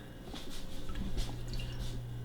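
Liquid poured slowly in a thin stream while making homemade mead, soft dripping and trickling over a steady low hum, faint and close.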